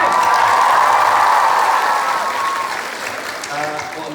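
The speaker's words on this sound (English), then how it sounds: "Big round of applause for Kim." A panel audience at TwitchCon breaks into loud, sustained applause with a few cheers mixed in. The clapping slowly fades toward the end as someone starts talking over it.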